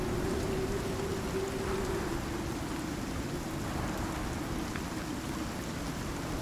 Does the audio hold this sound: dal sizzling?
no